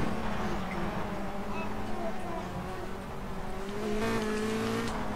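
Clio touring race car lapping in the rFactor2 racing game, a steady engine drone rising and falling in pitch through gear changes, continuous and fairly loud throughout.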